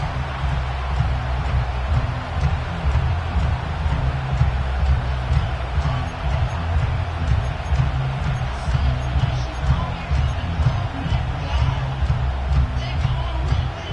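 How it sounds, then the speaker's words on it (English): A stadium crowd in the Madden 25 football video game roars in a continuous, swelling wash of cheering late in a close game, loud and steady throughout with faint commentary-like murmur mixed in. "This crowd turning up the decibel level."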